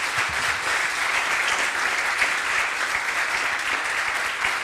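A conference audience in Thessaloniki, Greece, gives a sustained round of applause for a colleague named Raquel, steady dense clapping from many hands continuing without a break and with no voices over it.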